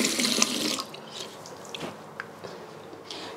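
Water splashes at a bathroom sink as a face is rinsed during a morning skincare routine, a close running-tap wash that tapers into scattered drips and small splashes, with no talking.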